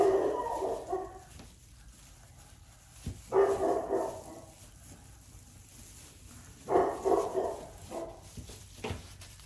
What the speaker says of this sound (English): That's Booker who barks at everything